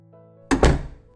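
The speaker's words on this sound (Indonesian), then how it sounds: "menutup pintu dengan kencang" A door slammed shut hard, a sudden loud thunk followed by a second heavier knock as it settles against the frame, over faint background tones.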